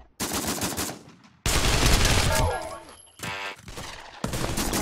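Rapid automatic gunfire in the VR shooter game Pavlov, loud close bursts with short pauses and ringing tails, under an excited player's voice.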